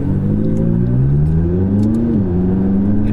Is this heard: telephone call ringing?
no